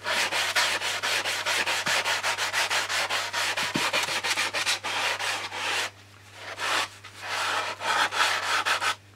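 Wing sanded with sandpaper mesh on a foam block: fast, steady back-and-forth rasping strokes, loud and close, pausing briefly near the end before resuming.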